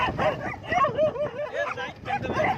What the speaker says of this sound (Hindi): रास्ते में कुत्ते तो आते ही हैं, लेकिन कुत्तों का काम सिर्फ क्या होता है, भौंकना।